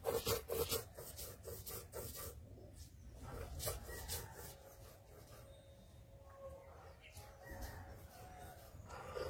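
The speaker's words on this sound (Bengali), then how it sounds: "এবারে এগুলো একসাথে বেটে নেব।" Mustard seeds, green chillies, salt and poppy seeds are ground into a spice paste on a grinding stone, giving faint, close rasping and rubbing strokes in an uneven rhythm with small knocks, and no talk.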